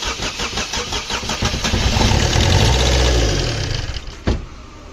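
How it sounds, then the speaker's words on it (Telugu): A car engine cranks and starts after an engine and gearbox refit following a seizure. A rapid starter whirr builds into a rough, loud catch and settles toward idle, close by, with a sharp knock just before it ends. "ఇప్పుడు స్టార్ట్ చేసుకుంటున్నాం బండి."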